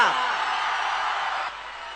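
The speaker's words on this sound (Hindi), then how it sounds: "दोस्तों तालियां तो आपने फिर भी पहले ही बजा दी" An audience at a poetry recitation about a soldier breaks into applause and whoops, a dense, steady wash of clapping and cheering that stays fairly loud for two seconds before easing slightly.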